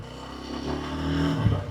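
A motorbike engine drones steadily and rises slightly in pitch as it climbs a hill on a forest road between Tenkasi and Achankovil, close and continuous with no speech.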